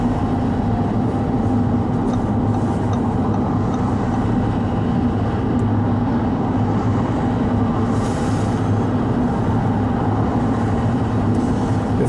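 Audi e-tron electric car towing a trailer on the A7 highway, heard as a steady, loud broadband road and wind roar with low rumble throughout and no voices.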